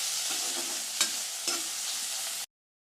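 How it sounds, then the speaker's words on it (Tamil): Onions and tomatoes sautéing in a pan for a wedding-style potato masala sizzle steadily and close up, with a few louder spoon scrapes as the mixture is stirred, no talking. "இதையும் நல்லா நம்ம வதக்கிக்கலாம்"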